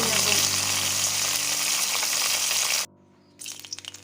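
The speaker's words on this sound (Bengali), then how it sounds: "একদম হালকা করে মাছটা ভেজে নেব" Koi fish fries lightly in mustard oil in a village kitchen. A steady, bright hiss holds for nearly three seconds, then cuts out briefly before returning as softer, uneven sizzling pops.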